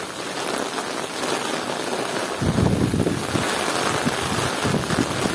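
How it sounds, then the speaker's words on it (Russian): Heavy tropical rain pours down steadily in Temryuk, Krasnodar Krai, a dense roar of drops hitting surfaces, with squally wind buffeting the microphone and growing louder partway through. "Это реально тропические ливни идут."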